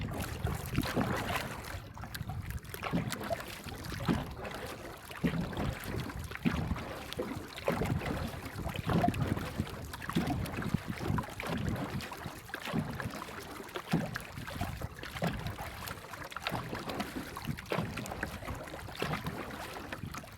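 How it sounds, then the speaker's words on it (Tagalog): A small boat runs on calm sea near an island, with a steady wash of water and hull noise, a low engine-like drone and some wind buffeting, continuous and moderately quiet. "Buti lang hindi malaki alon kasi malit lang yung bangka ko"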